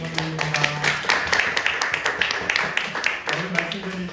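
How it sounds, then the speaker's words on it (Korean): A church congregation claps together in a dense, steady patter of applause while a voice speaks in Korean over it. "우리 박수로 하나님께 영광 돌립니다."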